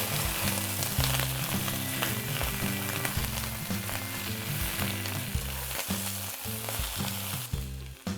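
Lettuce stir-frying with salt in a pan sizzles steadily and loudly, a dense crackling fry with stirring scrapes throughout, with no talk.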